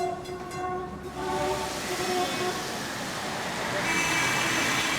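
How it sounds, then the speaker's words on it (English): A tram in an Indian city rumbles along its rails with a continuous, fairly quiet roar and some tonal whine early on, sounding moderately distant and steady throughout. "Trams exist even today"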